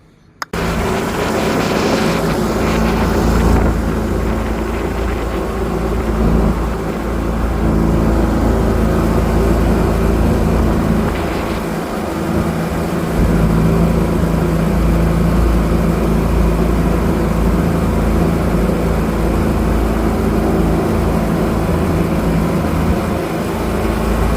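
A motorboat engine drones loudly and steadily, close by, with a low rumble and shifting whine as it runs over the water.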